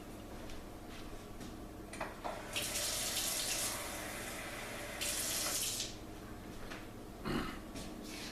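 Water pours from a tap in two short bursts, a little at a time, into a pot planted with onion scraps, steady hissing splashes close by against a quiet room with faint ticking.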